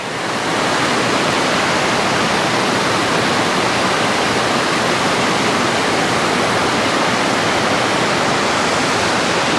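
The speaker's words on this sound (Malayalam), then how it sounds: "പാലത്തിലിങ്ങനെ നിന്നാൽ കറക്റ്റ് വെള്ളച്ചാട്ടം ഇങ്ങനെ കുറേ ദൂരം കാണാം" At Palakkayam Thattu, a waterfall viewed from a bridge pours in a loud, steady, unbroken roar of rushing water that fills the whole stretch without pause.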